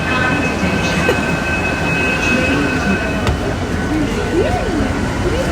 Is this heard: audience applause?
no